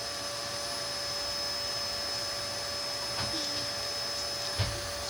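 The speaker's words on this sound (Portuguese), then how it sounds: "Esse barulho chato aí do aspirador." A vacuum cleaner drones steadily in the background as a constant mechanical whine, with a faint knock or two partway through.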